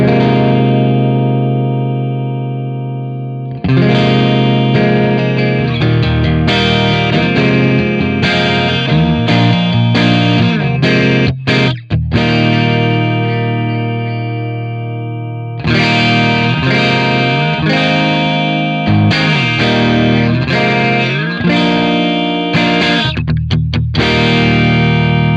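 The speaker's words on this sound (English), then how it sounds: "As we start to turn that treble up, we're going to get a brighter and brighter sound." An electric guitar plays through a Master Effects JC Pre pedal with its treble turned up, giving bright, crunchy distorted chords and riffs with short pauses between phrases.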